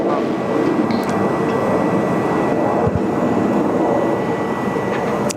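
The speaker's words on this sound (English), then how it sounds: "Qantas 1 on the roll, off to Singapore and then onwards to London" A Qantas airliner bound for Singapore and London begins its takeoff roll on Sydney Airport's runway 34 left, a loud, steady jet-engine roar that holds strong throughout.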